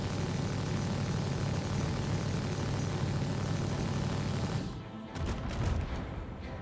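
Explosions tearing apart a Reclaimer ship in the Star Citizen video game: a dense, loud, continuous rumbling barrage of blasts that cuts off abruptly, followed by a few scattered fainter bursts.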